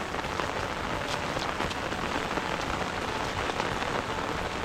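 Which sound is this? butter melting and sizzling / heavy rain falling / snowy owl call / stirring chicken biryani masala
heavy rain falling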